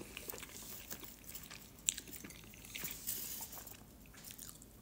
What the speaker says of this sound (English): I just got a bite of potato.